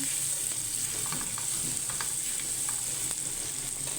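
Garlic sautés in a hot pan for a chicken dish with peanuts and mushrooms, giving a continuous, even sizzle with faint clicks of a utensil now and then, with no one speaking.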